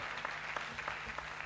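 An audience at a pharmacology conference hall claps for a professor after his plenary address, a brief burst of dense, even applause heard from a distance at low level.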